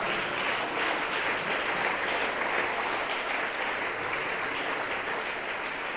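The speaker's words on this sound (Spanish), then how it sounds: "Alguien puede aplaudir su nombre." A church congregation applauds during a Spanish-language sermon, giving a steady wash of massed clapping, moderately distant and even, with no speech over it.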